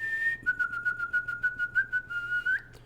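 A person whistles to imitate a bird call: a clear, fairly loud, sustained tone pulsed into rapid chirping bursts, rising slightly at the end, with no voices alongside.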